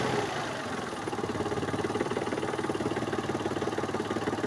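Mitsubishi Mirage car engine idling after starting, being checked for overheating, a steady moderate rhythmic hum with faint knocking pulses, close by and alone without talk.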